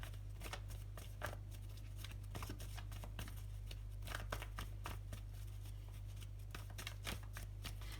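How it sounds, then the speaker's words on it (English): Repeated crisp riffling bursts of tarot cards being shuffled close by, in an irregular rhythm over a steady low hum, with no talking. "while I'm shuffling, one more shuffle"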